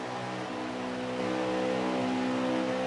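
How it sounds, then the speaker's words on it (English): Race car engine in a racing video game, a steady multi-tone drone with a rise in pitch and level partway through, alone without voices. "I keep losing the engine noise because I'm changing views."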